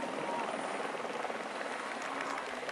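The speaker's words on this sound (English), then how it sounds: "a tracking shot from the helicopter" A helicopter tracks a Tour de France road stage, its rotor and engine making a steady, dense roar that fills the whole stretch without letup.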